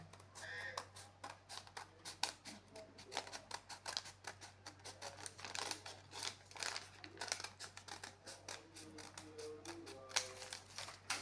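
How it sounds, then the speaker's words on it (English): Scissors snip through pattern paper for a sequined beret in a dense run of quick crisp cuts and paper crinkles, close to the microphone, with occasional faint voices underneath. "I'll get my scissors, and then I'm going to trim this off gradually."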